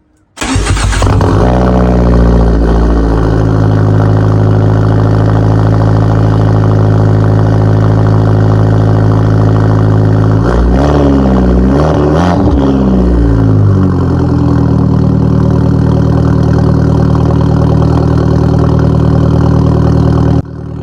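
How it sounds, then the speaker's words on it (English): A small Fiat car engine fitted with a big turbo cold-starts with a sudden crank and catch, then settles into a loud, rough, steady idle, with a couple of brief blips in revs partway through. "let's get that cold start going"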